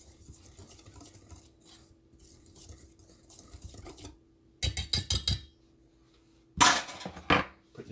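Cake batter with milk being stirred for a red velvet pound cake, heard as a soft, steady scraping swirl that gives way to louder clinks and knocks of utensil on bowl, with no talking.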